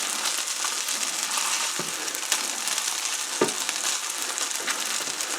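Gnocchi sautés in a hot pan, a dish served with garlic butter shrimp, giving off a steady, bright sizzle with a few soft knocks as they are stirred or nudged.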